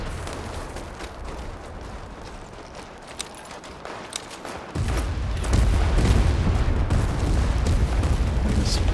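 Bullets and tank fire crackle in a modern-warfare shooter, World War 3, a steady distant battle rattle with scattered sharp cracks that thickens into a louder, heavier rumble of fire halfway through.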